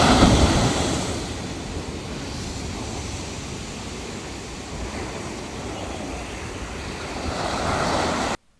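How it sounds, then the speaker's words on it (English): Small ocean waves break on the steep Lover's Beach in Cabo San Lucas, a steady roaring wash of surf with wind rushing past the microphone, loudest at the start and again near the end. "even though the waves were small, they still knocked us around like we were rag dolls"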